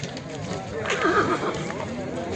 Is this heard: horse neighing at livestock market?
yes